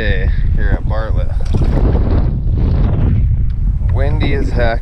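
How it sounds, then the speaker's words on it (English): Strong wind buffets the microphone beside Bartlett Lake in Arizona, a loud steady roar through the whole stretch with someone talking over it. "Windy as heck."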